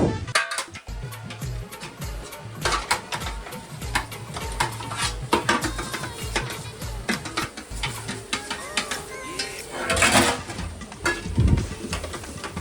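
Garlic paste sizzles with browned onions in a pan while being stirred for a mutton and crab curry, a steady close frying hiss broken by frequent scraping and clinking of the spoon.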